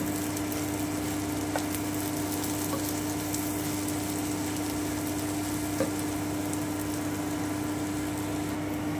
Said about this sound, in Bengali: আমি একটু ভেজে নিচ্ছি।